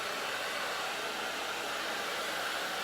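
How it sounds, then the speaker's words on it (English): A blow dryer runs steadily at close range, drying a painted yarn-covered pumpkin. Its even, breathy roar holds without a break and nothing else is heard. "So I'm going to put the blow dryer on it to dry it up real quick."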